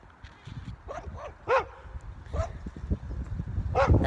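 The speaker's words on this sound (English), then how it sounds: "That dog is going crazy." A dog barks excitedly outdoors near a soccer golf game, giving a rapid run of sharp, yipping barks in uneven bursts. Rustling and footsteps sound close by between them.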